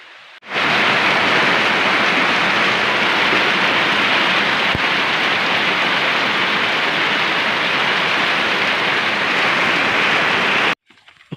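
Rain pouring steadily while fishing for tilapia outdoors in the countryside, a dense, loud, even hiss that starts abruptly and holds unbroken until it cuts off near the end.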